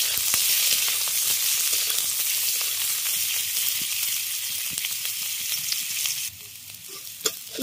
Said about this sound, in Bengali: উচ্ছেগুলোকে খুব ভালো করে লাল করে ভেজে দিতে হবে